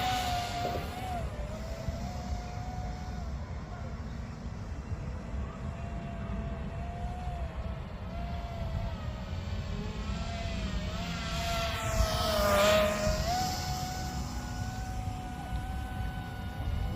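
A Sci Fi Sky RC tilt-rotor plane flies in plane mode with a steady, thin motor whine that wavers in pitch and rises briefly as it passes closer, over a constant background rush.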